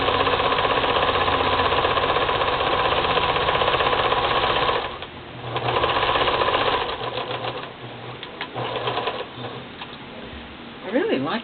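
A sewing machine stitches trim on with olive green thread, its steady motor whir running continuously for about five seconds, then dropping out and returning in shorter, broken bursts.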